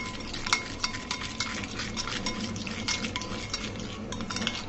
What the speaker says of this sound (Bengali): চিনিটা দিয়ে ভালো মতো ফেটিয়ে নিব।